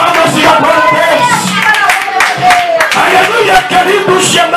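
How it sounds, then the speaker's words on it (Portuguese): Church congregation at a worship service in Belo Horizonte clapping along in dense, steady applause mixed with voices and music, loud and continuous throughout. "Pode fazer palmas e glória a Deus."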